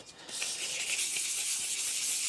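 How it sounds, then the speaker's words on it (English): Sandpaper rubbing against a Polaris Sportsman 800 clutch sheave to deglaze it, a steady close-up hissing scrape that starts after a brief pause and continues evenly. "take a little sandpaper and deglaze"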